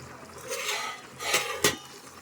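A pan of curry being stirred with salt, with several distinct metal scrapes and clinks of the spoon against the pan, close and fairly loud over a low background, no voices.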